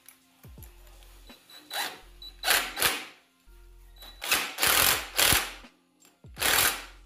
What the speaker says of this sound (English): Tighten it down.